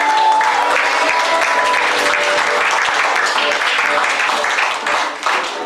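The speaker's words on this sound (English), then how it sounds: "Why don't we give a round of applause to our parents and our pastor." A church congregation applauds at a Youth Sunday service, steady sustained clapping filling the room for several seconds and easing off near the end, with faint voices mixed in.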